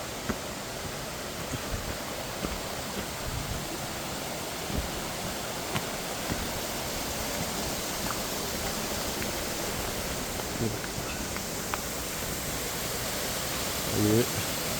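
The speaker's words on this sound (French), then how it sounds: "Là, il y a des cascades." Small waterfalls in a rocky gorge give a steady, even rush of falling water, moderately distant and unbroken, with faint footsteps and movement now and then.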